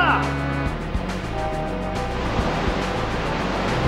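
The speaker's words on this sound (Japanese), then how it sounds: "ここで波乗りだ。" Rushing, surging water effect from the Surf attack in the Pokémon Stadium 2 video game, with a voice at the start and a steady wash of wave noise that pulses in rough beats.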